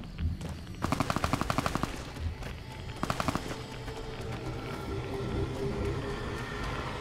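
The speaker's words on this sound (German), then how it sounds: "Oh, oh, da wird geschossen." Gunfire in the video game Fallout New Vegas: two rapid automatic bursts of shots, about a second each, followed by scattered single pops over a steady ambient background.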